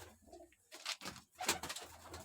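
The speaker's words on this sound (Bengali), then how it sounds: "ওই পায়রা আছে, ওই পায়ে আবার ঝুনঝুনা বাঁধা রয়েছে পায়রাটা" Pigeon coos and bird calls, close and moderately loud, come in short bursts with bright chiming, rustling touches that may be the small bell tied to the pigeon's foot, outdoors in a village.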